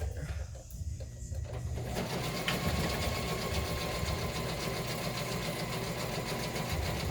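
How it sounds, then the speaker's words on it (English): A sewing machine stitching a book page insert whirs in a close, steady mechanical hum with rapid rhythmic clatter, ramping up after a slower start and running continuously. "So let me sew real quick."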